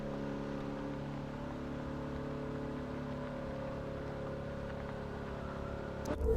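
A Ferrari 458 engine in The Crew 2 idles with a steady, droning hum, then rises sharply in a brief rev at the very end.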